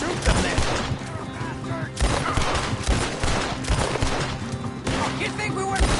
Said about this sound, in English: Well, shoot them then.